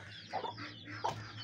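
Chickens in a poultry coop give a few soft, close clucks, brief murmuring calls spaced across a quiet moment.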